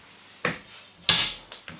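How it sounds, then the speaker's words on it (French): The second side panel of a Phanteks Evolv PC case is removed, with three or four short, close clacks and scrapes of metal and plastic, one brighter rattling scrape in the middle. "Et pour retirer la deuxième porte, c'est tout aussi simple."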